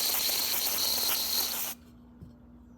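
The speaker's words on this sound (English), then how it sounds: "I'm going to use a little bit of good old CRC carb cleaner to degrease it, de-oil it, clean it up" CRC carb cleaner sprays in a loud, steady hiss from the aerosol can onto a copper washer for under two seconds, then cuts off abruptly, leaving near silence.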